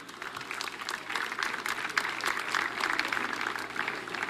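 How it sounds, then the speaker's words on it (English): An audience at a church youth convention panel claps for Engineer Woye Olagbaju and his panelists, moderate steady applause from a seated crowd that runs the whole length at fairly even loudness. "Let's keep clapping for him."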